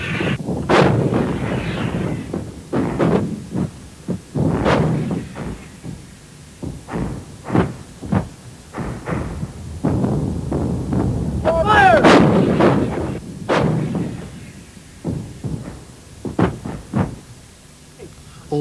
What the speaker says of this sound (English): The fire was directed onto Iraqi armour in the streets of Al-Khafji